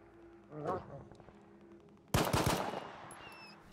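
Distant gunfire in the video game STALKER 2, a burst of rapid shots cracking out after a quieter stretch, with a voice speaking faintly before it.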